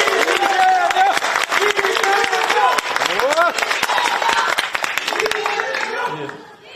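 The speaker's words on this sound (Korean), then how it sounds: "여러분 우선 큰 박수로 이 자리 시작하도록 하겠습니다." An audience at a Korean farmers' meeting on rice prices and the grain management law claps in a dense, sustained round of applause, with voices and cheering mixed in. The clapping fades toward the end.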